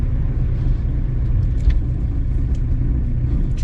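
Western Star truck rolls along with a steady low engine rumble and road noise, close and continuous with no talk.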